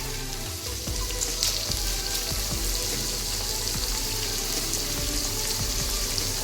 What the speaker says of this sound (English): So oil is popping up